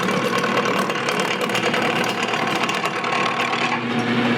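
A skew chisel rests on the tool rest and cuts across the corner of a spinning workpiece on a wood lathe, giving a loud, steady motor hum with a rapid rough chatter from the cut throughout.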